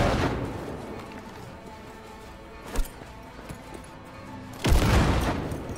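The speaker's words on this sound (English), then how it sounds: "Grenades really help." A grenade goes off in Cyberpunk 2077: a short sharp burst first, then a louder, heavier boom near the end that rumbles briefly.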